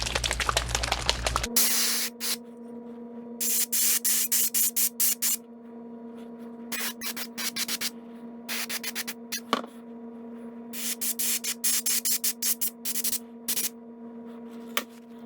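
Transparent yellow paint is sprayed onto a wooden lipless crankbait in short repeated hissing bursts of varying length, separated by quiet gaps, close and clear without any talk.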